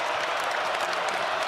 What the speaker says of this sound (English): Crowd gets on its feet here.